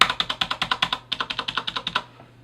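Crisp, even clicks from the enter key of a Corsair K95 Platinum mechanical keyboard, about sixteen quick presses in a steady rhythm, close and clear with no talking.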